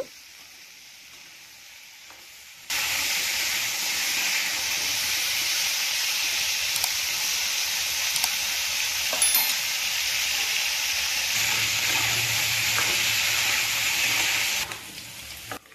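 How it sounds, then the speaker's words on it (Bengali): Potatoes, carrots and beans frying in a pan for khichuri, a steady close sizzle and hiss that starts abruptly after a quiet opening and runs evenly with faint stirring touches before cutting off near the end. "এবার আলু একসঙ্গে ভেজে নেব আর বাকি সবজিগুলো ভেজে নেব"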